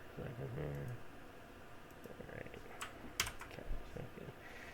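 Someone typing a name on a computer keyboard while setting up Windows 3.1 in DOSBox, with a quiet run of close key clicks and a couple of sharper taps.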